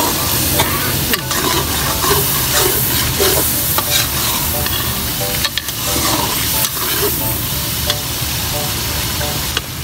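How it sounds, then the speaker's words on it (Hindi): Mutton fries and is stirred in a pot for daal gosht, giving a continuous loud sizzle with repeated scraping stirs and clinks close by. "तो अब ये गोश्त भून लीजिए"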